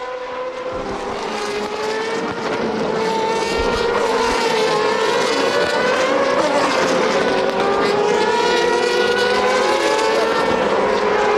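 GP2 race cars at full throttle around the Bahrain circuit in 2007, a continuous loud engine drone with rising and falling pitch as several cars pass, steady throughout.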